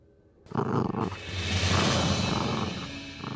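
A dog growls in a low, rough, sustained rumble that swells loudly after a short quiet start and holds for several seconds without speech.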